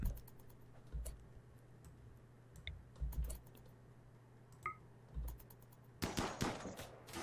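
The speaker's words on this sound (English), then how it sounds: "So I could shoot the ship." Gunfire in the colony game RimWorld, several short sharp shots scattered across a quiet background hum, with a denser burst of shots near the end.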